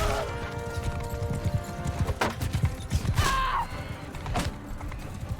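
Horse in the medieval battle game Mount and Blade Bannerlord, its hooves clip-clopping amid busy battlefield clatter and creaks, with a brief whinny-like cry rising partway through.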